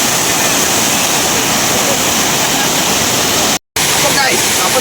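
A waterfall near a village roars with dense, steady rushing water. The sound is loud and continuous, with one brief dropout near the end.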